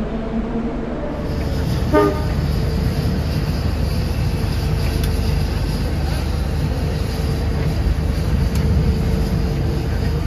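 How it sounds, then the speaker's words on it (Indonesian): A locomotive rolls onto a railway turntable at Bangil station, a constant heavy rumble and machinery drone with a brief toot early on, loud and steady throughout. "Nah ini lokomotifnya masuk ke turntable teman-teman."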